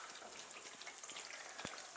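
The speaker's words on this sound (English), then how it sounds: "right now, we are frying the eggplants" Eggplant frying in hot oil, a continuous dense crackling sizzle, fairly soft and close, with scattered sharper pops and one brief clink, no voices.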